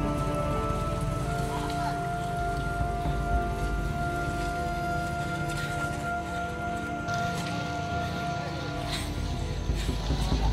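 Steady rain falls throughout on a remote, rain-soaked building site in the interior, a dense, continuous hiss of drops drumming on surfaces, fairly close and even in level with no talk over it.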